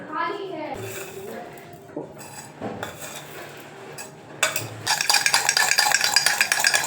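Sugar is added to a homemade coffee and stirred with a spoon, giving light clinks and scrapes against the cup, then a faster, brighter rattling stir near the end, with someone talking at the start.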